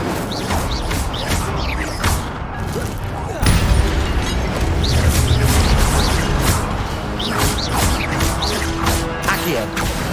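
Incendio fire spell cast during Hogwarts Legacy combat on PC: loud whooshing bursts and crashing impacts, a heavier roaring surge midway, under and between spoken voices.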